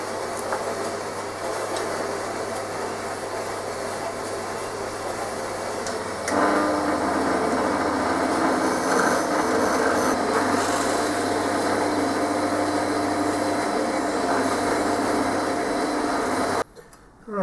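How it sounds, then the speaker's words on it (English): M6 threads being hand-tapped into metal parts for a lathe headstock clamp, a close, continuous scraping and grinding rasp with a faint low hum underneath and no talk. "I'm just tapping these for M6."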